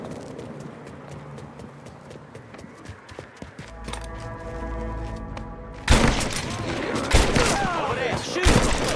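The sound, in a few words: gunfire in Mafia 3 video game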